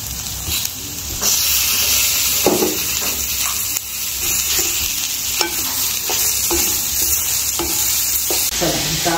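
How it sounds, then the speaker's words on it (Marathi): Dum aloo masala of onion, whole spices and cashews is sautéed with tomatoes, giving a loud, continuous sizzle with repeated scraping and stirring strokes of a spatula close by. "आता शेवटी टाकणार आपण हे टोमॅटो, टोमॅटो पण छान मऊसर आपण परतणार आहे।"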